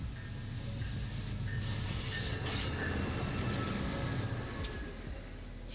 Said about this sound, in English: The incredibly late-running auto train number 52 has finally made its way up the coast from Florida